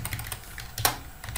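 A computer keyboard gives a few quick keystrokes for a copy shortcut, close and crisp, with one sharper click standing out in the middle of the short burst.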